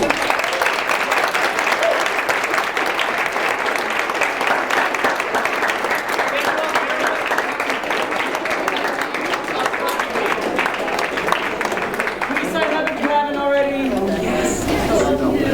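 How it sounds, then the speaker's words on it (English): Audience at a tenants' association event in Manhattan Plaza, Hell's Kitchen, applauding steadily and loudly for about twelve seconds with some chatter, then the clapping thins out and voices come through near the end. "Big hand of applause."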